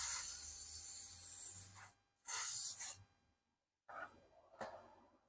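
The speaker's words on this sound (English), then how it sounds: "Give it a good spray." Deoxidizer spray hisses onto a car's electrical parts in two close bursts, the first longer, with short quiet gaps and softer rubbing and handling sounds between and after.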